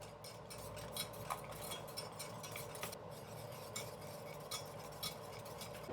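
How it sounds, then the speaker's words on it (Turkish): A spoon stirs cream with melting butter and vanilla in a pot on the stove, scraping and clinking in a steady rhythm over a constant background hiss. "Tereyağı eriyene kadar karıştırmaya devam edip kremamı ocaktan alıyorum."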